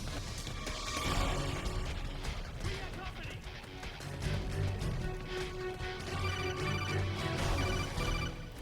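Ringing codec call tone from Metal Gear Solid 4 sounds over a busy game mix of music and effects, repeating steadily through the stretch at moderate level.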